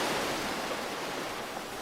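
Ocean waves wash in with the tide as a steady, full broadband surf rush that stays loud and even throughout, with no voices.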